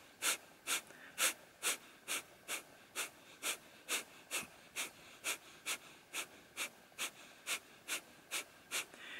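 Slow, steady breathing through the nose during a breathing exercise, soft rhythmic breaths repeating about every half second, quiet and close with no talk.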